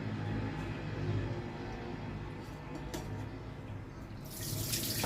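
Water runs steadily from a tap while rice is washed and measured, a constant splashing rush close by with a brief brighter surge near the end.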